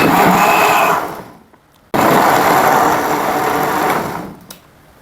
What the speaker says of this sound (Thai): ปั่นให้เข้ากันอีกรอบนึง